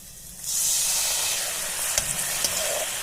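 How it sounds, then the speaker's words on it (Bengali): Water poured into a pan of frying spices with chopped tomato bursts into a loud hissing sizzle after a quieter start, then settles into a steady close steam hiss broken by a couple of soft knocks. "এবার একটু জল দিয়ে দেবো যাতে না মশলাটা পুড়ে যায়"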